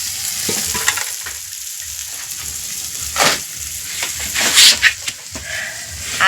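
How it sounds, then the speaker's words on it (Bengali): Fried rice and meat frying in a pan at an outdoor picnic, a loud steady sizzle with occasional stirring scrapes and louder bursts toward the end. "এই যে দেখো, রান্না হচ্ছে ফ্রাইড রাইস হচ্ছে"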